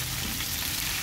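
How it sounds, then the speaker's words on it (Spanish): Beef searing in a frying pan, a steady, dense sizzle with no break, close and fairly loud with no talking. "Cuando yo hablo de sellar es que yo voy a hacer una capa o una costra en la carne a modo que esta no se deshaga."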